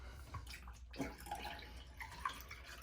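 Soap and bleach poured into a bathtub, a steady liquid splash and trickle running throughout at moderate level, with a brief pause partway through.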